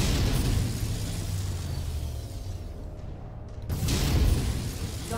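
A MechWarrior 5 battle explosion as a target is destroyed, a loud low rumbling blast sustained under continuous combat noise, with a brief quieter lull before another burst of heavy blast energy.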